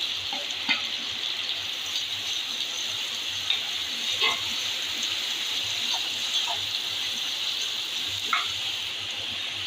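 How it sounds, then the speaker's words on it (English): About five chopped big onions fry in a pan with spices for mushroom fried rice, giving a continuous close hiss and sizzle with occasional soft stirring clicks, steady and uninterrupted. "Next, we are going to add big onions."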